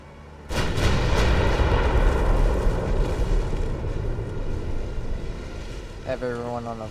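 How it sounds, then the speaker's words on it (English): Naval gunfire in Ultimate Admiral: Dreadnoughts, an enemy warship firing, opens with a sudden heavy boom that settles into a long, rolling, rumbling roar, with a brief tonal effect near the end. "Oh, she is shooting at us."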